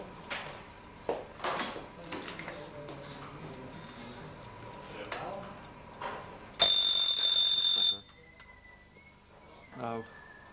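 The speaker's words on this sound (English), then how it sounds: "Now turn the hand forwards, reset the alarm stop detent." Small mechanical clicks and ticks of an alarm clock mechanism being set under soft talk, then a loud electronic alarm ring for about a second.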